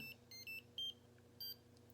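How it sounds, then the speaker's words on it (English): A short series of electronic buzzer tones from a circuit board playing the Mario theme in separate pitched beeps, at low volume over a faint hum. "So that was demonstrating the buzzer"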